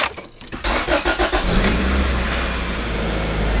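A Honda car engine cranks briefly, then catches and settles into a steady, loud idle with a low continuous rumble close to the microphone, no voices present.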